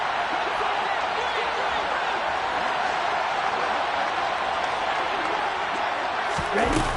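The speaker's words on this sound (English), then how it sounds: "as this crowd rises to make things difficult" A stadium crowd in a football video game, Dolphins versus Chargers, swells into a loud, continuous roar of cheering that fills the whole stretch, with a commentator talking over it.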